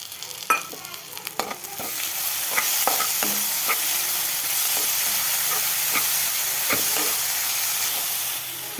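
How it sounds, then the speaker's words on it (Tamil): Ginger-garlic paste and onions are sautéed in a pan for an Indian mutton liver fry, with a loud, steady sizzle and hiss under repeated stirring scrapes and spatula taps close by. "இதோட பச்சை வாசனை போகிற வரை வதக்குவோம்."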